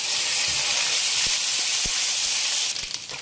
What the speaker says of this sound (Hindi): हमारी प्याज सुनहरी हो जाएगी जब तक हम इसको फ्राई करते रहेंगे